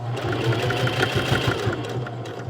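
Sewing machine running steadily as it back stitches at the start of a fabric pirate eye patch, a close, continuous motor hum with a rapid needle rhythm, no talking.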